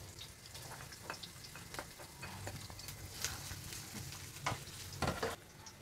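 Onion, ginger and garlic sizzle in a frying pan for a spicy chicken dish, a steady close crackle with scattered sharper pops and light stirring, no voices.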